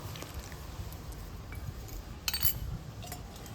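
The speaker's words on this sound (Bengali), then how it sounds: "অনবরত নাড়াচাড়া করে তরমুজের জুসটা একটু গাঢ় করে নিতে হবে" A spoon clinks quietly against a pot while stirring watermelon juice, with faint scraping and a few light metallic taps, and one clearer clink stands out over a low room hum.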